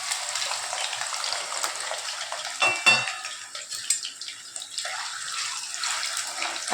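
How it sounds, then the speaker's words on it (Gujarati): Potatoes shallow frying in hot oil in a pan for a potato and fenugreek curry give a steady, bright hiss with a few louder sputters and utensil clinks partway through. "તો આપણે એમની અંદર એ બટેટા એડ કરી દઈએ અને આપણે એમને શેલો ફ્રાય કરવાના છે."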